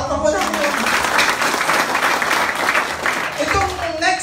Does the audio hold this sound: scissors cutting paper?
no